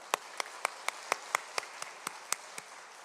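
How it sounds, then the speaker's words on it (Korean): A church congregation gives a quiet round of claps, about a dozen evenly spaced single claps in a steady rhythm, faint and distant. "우리 박수 해주시기 바랍니다."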